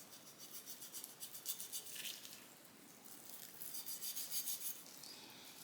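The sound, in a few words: trimming excess fat off a pork shoulder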